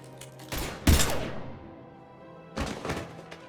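Gunfire in the Mass Effect Legendary Edition video game: a sharp burst of shots followed by a heavy thud and fading rumble, then a second cluster of shots after a lull.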